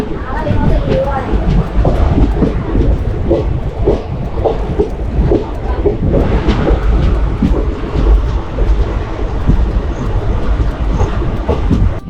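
Train pulling out of Palakkad Junction on the Shornur–Coimbatore line, a steady loud rumble with rhythmic wheel clatter heard from aboard, with a voice talking over it.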